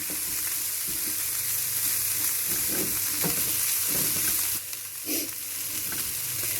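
Vegetables cooking in a pan for a chicken bread roll filling, sizzling and frying steadily with soft stirring scrapes throughout, close and continuous with no talking.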